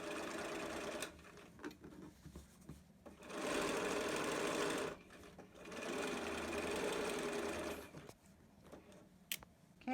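A sewing machine stitches around the final seam of a zipper pouch through thick layers, running in two sustained bursts with short pauses and small clicks between them, close and clear with no talk.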